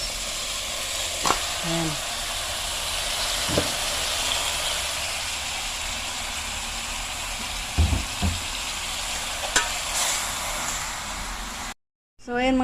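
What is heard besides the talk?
chicken sizzling and being stirred in pan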